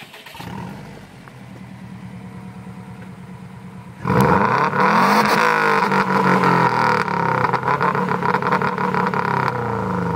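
A 2006 Subaru Impreza WRX with a new 5Zigen Fireball exhaust idles with a low burble, then is revved hard, the exhaust jumping to a loud, raspy roar that rises and falls close by.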